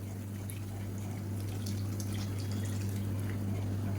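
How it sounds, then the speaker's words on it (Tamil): Ragi mixture is poured into a pot of soup while being stirred, a soft continuous liquid trickle with faint splashes over a steady stove hum close by, with no speech. "ஊற்றும் போது நல்லா கலந்து விட்டுட்டு ஊற்றிக்கோங்க"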